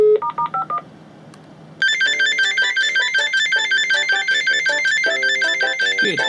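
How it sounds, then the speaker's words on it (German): Two telephones ring together through a Speedport W900 V router, their electronic trilling tones overlapping loudly and continuously after a short burst of dial-tone beeps at the start. "Kann auch sein, dass beide Telefone klingeln."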